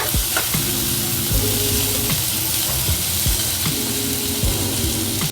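Onions and tomatoes sizzle and crackle loudly in a hot pan, with occasional scraping and stirring noises over the steady frying hiss.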